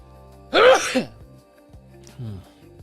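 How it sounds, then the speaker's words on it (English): A single loud, sharp sneeze up close, followed a moment later by a short, softer vocal sound. "I feel a sneeze coming on."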